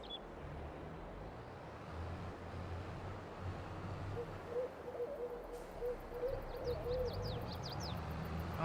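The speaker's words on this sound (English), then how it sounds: "did y'all hear the owl?" An owl in a farming simulator game hoots a few soft, repeated calls midway, faint over a steady low engine-like ambient hum, with brief higher chirps near the end.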